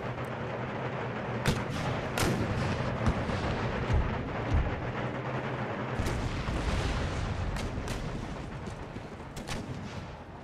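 Battle noise from Empire: Total War, with rolling artillery booms and crackling volleys of musket fire layered over a dense rumbling background. Sharp shots recur through the whole stretch, some near and loud, others farther off.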